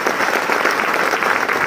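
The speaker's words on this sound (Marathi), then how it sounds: "फास्टेस्ट युटी लीडर किशोर जायरे सरांसाठी जोरदार टाळ्या वाजवा." An audience at a business success event claps loudly and continuously in a dense, steady burst of applause.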